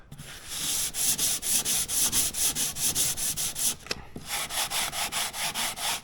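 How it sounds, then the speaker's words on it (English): Filler is smoothed by hand with sandpaper in a series of brisk, evenly paced rasping strokes, about sixteen in a row, close and loud with a brief pause midway. "That stuff sands really quick, like 3 or 4 wipes, and it's all gone."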